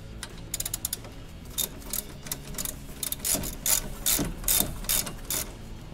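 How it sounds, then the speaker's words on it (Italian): Shock absorber bolts on a Fiat Panda 169 are unscrewed with a ratchet, giving bursts of rapid clicking that come in several runs and grow louder and denser toward the end. "Ora possiamo tranquillamente finire di svitare tutto quanto"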